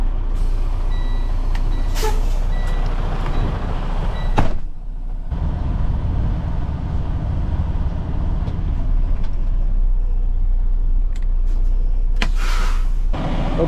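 A truck with a tailgate and raising bed backs up close by, its engine rumbling steadily while faint repeating reversing beeps sound over it, with a hiss of air near the middle and at the end.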